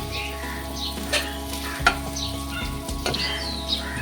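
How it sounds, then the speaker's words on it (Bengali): Garlic and dried red chilies frying in mustard oil in a pan, giving a steady close sizzle with a few sharp spatula scrapes and stirring clicks, no voices. "আমি আর একটুখানি সর্ষার তেল দিয়ে দিয়েছি এখন দিয়ে দিচ্ছি রসুন কুচি এক সাইডে আমি দিয়ে দিলাম শুকনো লঙ্কা"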